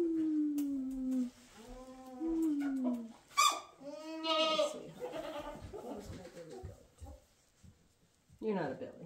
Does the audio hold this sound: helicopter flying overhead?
no